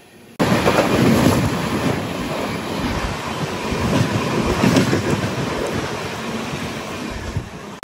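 Brindavan Express, MGR Chennai Central to KSR Bengaluru, rushes past near Jollarpettai Junction while heard from aboard another moving intercity train, a loud continuous roar of wheels and wind with steady rumbling throughout, no voices.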